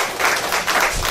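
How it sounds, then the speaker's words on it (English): An audience at a live Haitian show gives a brief round of applause, a quick close flurry of clapping that pulses for about a second. "Please give the sister another round of applause,"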